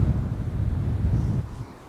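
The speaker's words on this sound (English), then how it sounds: "Maybe you can hear those gusts, it is windy." Cold, blustery wind gusts roar across the Bally Haly North golf course, buffeting the microphone with a steady low rumble that eases off toward the end.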